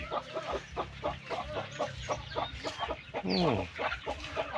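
Laying hens and native Thai backyard chickens cluck in a steady, busy flock chatter close by, with one louder rising squawk near the end.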